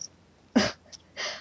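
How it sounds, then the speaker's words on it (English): A small pet cat gives a short, sharp sneeze, followed moments later by a softer second sneezy exhale. Both are quiet and close in an otherwise still room. "Kitty sneezed."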